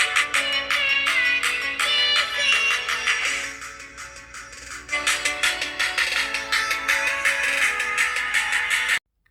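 Music plays back through the single loudspeaker of a Samsung Galaxy A13 5G phone: a bright, fairly loud melodic tune with rhythmic beats, cutting off abruptly at the end, with no talk.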